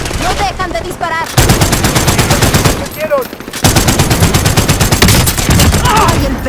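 Rapid automatic gunfire in Call of Duty: Warzone on Rebirth Island in Resurgence mode, loud and close, with dense bursts of shots running almost continuously, briefly broken by short pauses and faint voices.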